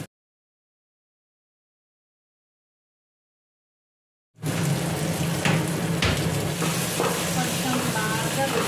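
Curry leaves sizzle in a hot pan over a high flame: a steady, loud frying hiss with a few crackles starts abruptly after several seconds of silence and carries on to the end.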